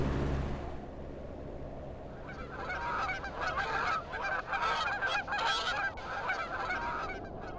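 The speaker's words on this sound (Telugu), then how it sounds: "అదుగో అటు చూడు, ఆ పక్షులన్నీ ఎక్కడికి వెళ్తున్నాయి?" A flock of geese honks repeatedly in a dense, overlapping chorus, fairly near and loud, beginning after a brief low rumble and continuing steadily without any talk.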